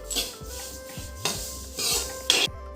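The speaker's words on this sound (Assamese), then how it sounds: "তিলখিনি অকণ ময়ো ভাজি দিছোঁ" Sesame seeds being dry roasted in a wok, with repeated rasping scrapes and stirs of a spatula against the metal in irregular strokes, close and clear with no talk.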